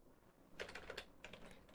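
Keystrokes on a computer keyboard while filling in a website field, a brief quiet pause followed by two close bursts of clicky taps, with no talk.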